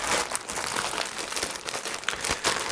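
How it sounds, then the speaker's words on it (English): Loud, close crinkling of the plastic bag packaging a Vanguard Alta Pro 2+ tripod, continuous rustling and crackling throughout. "I will not be beaten by plastic bags."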